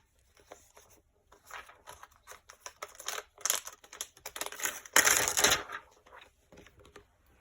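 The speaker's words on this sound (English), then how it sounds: "First, I'm going to stamp out my truck." A rubber stamp bearing a truck image pressed onto scrap paper for cardmaking, heard as a close series of soft taps, rustles and paper crinkles that builds to a louder burst of handling noise midway.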